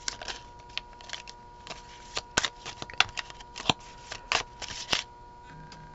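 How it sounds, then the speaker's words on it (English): A Christ Consciousness tarot deck being shuffled and drawn from, with quick irregular flutters and snaps of cards riffling and sliding close by, with no talking. "we're just going to draw some from the Christ Consciousness deck and see"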